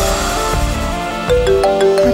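Mobile phone ringtone left behind in a house, a melodic electronic tone with repeating notes over a steady musical bed, loud and close, with no talking.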